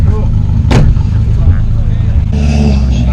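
Rallycross car engine held at its rev limiter, a loud, steady buzzing drone with a sharp pop near the start, heard close at an event.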